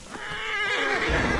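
A horse in the video game Assassin's Creed Origins lets out a single loud, rising, wavering neigh, up close and alone.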